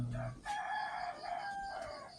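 A rooster crows at dawn, one long cock-a-doodle-doo with harmonic bands that rise, hold, then fall away. It sounds fairly close and clear, with a soft voice briefly before it.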